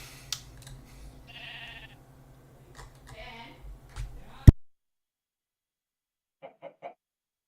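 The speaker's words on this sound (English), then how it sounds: "We got a brown sheep." Sheep bleating in a video game, a few short calls over a low background hum with some game noise, followed after a sudden cut by faint brief chirps in near silence.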